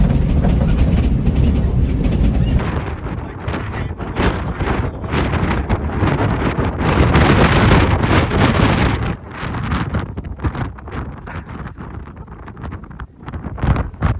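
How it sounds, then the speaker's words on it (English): Strong wind in the South Dakota Badlands near Wall buffets the microphone in loud, uneven gusts, roaring steadily for the whole stretch with brief lulls and no speech. "I just pulled my main slide out in because it is really windy."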